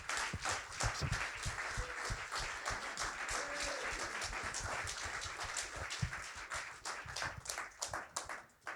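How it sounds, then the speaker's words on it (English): Audience applause fills a conference closing session, a dense steady patter of many hands clapping that holds for the whole stretch, with a few brief louder claps near the end. "let's give them a round of applause."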